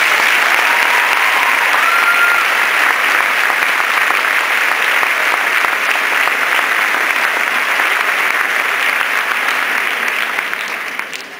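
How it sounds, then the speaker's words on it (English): Sustained, loud round of applause from a graduation audience honouring teachers, dense steady clapping throughout that fades out near the end. "I want all of you to give a round of applause to all the teachers"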